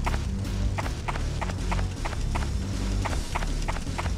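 Quick, evenly spaced hoof-like footfalls of a running llama in a video game, a steady clip-clop rhythm of about two steps per second over a low rumbling game background, with no talk.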